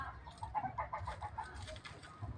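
A limukon dove calls repeatedly in mid-pitched cooing notes, a quick series of rounded hoots with some outdoor background noise.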